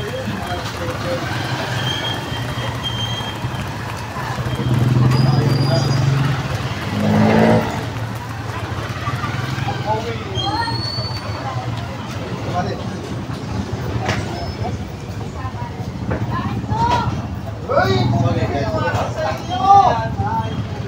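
A tricycle engine runs throughout a ride, with a steady low rumble that swells and eases as it moves, while traffic noises and a voice talking come and go over it.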